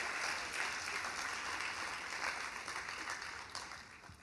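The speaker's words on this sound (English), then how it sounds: "Applause, please" Audience applause at a panel event on the L.A. Rebellion film movement, welcoming director Julie Dash with steady clapping that thins out toward the end.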